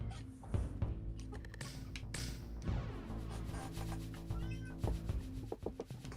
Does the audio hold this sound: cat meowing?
yes